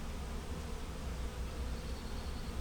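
Honeybees buzz over a hive frame, a continuous close-up drone that stays fairly soft and steady, with no voices.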